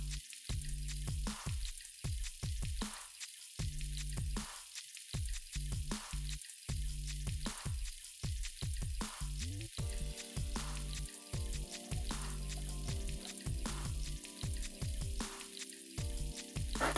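Peppers and garlic frying on low heat, a steady close crackle and sizzle with faint spattering pops that runs continuously without pause, no speech.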